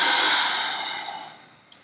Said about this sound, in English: Take some nice big deep breaths in